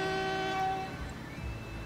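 A train horn from the railway building game Transport Fever blares loud and sustained, then gives way to a lower rumble of rolling rail cars, with no talking.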